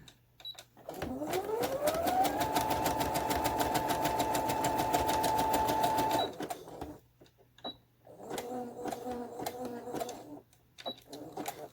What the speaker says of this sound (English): Hopefully the sewing machine won't have a problem rolling over that.